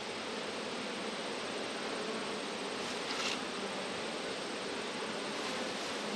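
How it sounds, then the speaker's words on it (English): Honey bees swarm in a bee yard, a dense, continuous buzzing hum all around and close, steady throughout with a brief louder pass of a bee near the middle. "Lots of bees that would rather me leave them alone."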